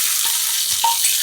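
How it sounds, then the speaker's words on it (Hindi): Garlic and whole red chillies crackle and sizzle steadily in hot oil for a tadka tempering, a close, continuous broadband hiss with a few small pops and no talk. "ये अब लगने लगा है तड़का"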